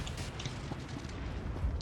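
A low, rumbling video-game bomb blast and its dull aftermath fill the clip, steady and muffled with no voices.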